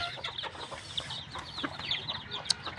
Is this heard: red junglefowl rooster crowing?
yes